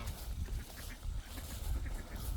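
Geese honking repeatedly, a noisy overlapping flock close by, with steady low rumbling background.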